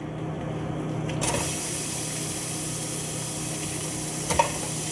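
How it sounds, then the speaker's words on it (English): Ground beef browning in a skillet gives a steady, close sizzle that swells slightly after the first second, with a couple of faint clinks of a utensil against the pan. "You put the ground beef in the skillet. Then you brown the ground beef."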